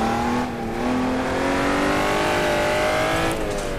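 A Honda NSX slides in second gear downhill on a kart circuit, its engine holding a loud, sustained rising drone with a faint tyre scrub near the end, close and continuous.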